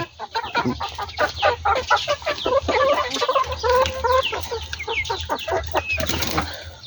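Free-range hill-country desi chickens cluck busily while pecking at maize feed, a dense run of short, overlapping clucks close by with a hen's call rising near the end, no speech.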